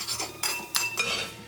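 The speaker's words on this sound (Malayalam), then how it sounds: "നമ്മളിങ്ങനെ ഇളക്കി ഇത് നല്ല ഡ്രൈ ആക്കി എടുക്കണം" Chopped ginger stirred in a pan over low flame to dry it out for puli inji, giving three or four quick, close metallic clinks and scrapes of a spoon against the pan in a short burst, without speech.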